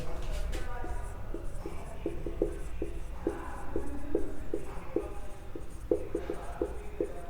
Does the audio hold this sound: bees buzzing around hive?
no